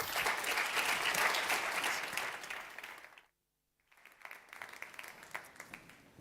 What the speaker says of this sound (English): A big round of applause for an amazing job and all your information and innovation